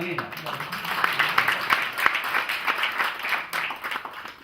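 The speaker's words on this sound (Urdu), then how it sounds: "تالیاں" Audience applause at a community recognition event, a dense patter of many hands clapping steadily throughout, moderately loud with faint voices mixed in.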